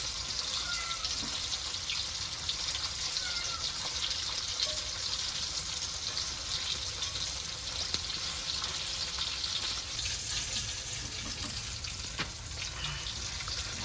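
Pomfret fish frying in hot oil in a pan, a steady even sizzle with a fine hiss that runs unbroken and close throughout, with no voices.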